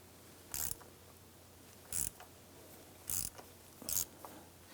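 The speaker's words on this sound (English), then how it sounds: "Go ahead and use your oil filter wrench. Go ahead and loosen this filter." A filter wrench loosens the oil filter on a 2011-2019 Ford Explorer 3.5L, giving four separate short ratcheting clicks spaced about a second apart, close and fairly quiet.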